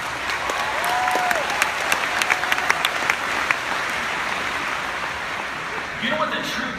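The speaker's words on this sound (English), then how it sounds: "Give yourself a round of applause." A room full of people at a business gathering bursts into sustained applause, dense clapping with a few scattered voices and cheers mixed in, loud and close for the whole stretch.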